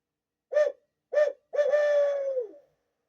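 A worn HS Strut barrel hoot owl call, a hunting call that imitates an owl, blown close and clear: two short hoots followed by a longer drawn-out hoot that trails off, alone in silence.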